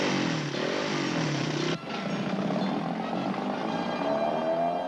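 An engine in a Champion spark plugs commercial roars steadily for several seconds, broad and loud, with a brief dip midway before the sustained running noise resumes, no voices.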